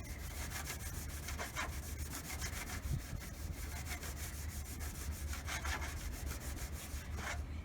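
Old car paint is polished by hand with rapid back-and-forth rubbing strokes in an even rhythm. The strokes are close but fairly quiet, with no speech.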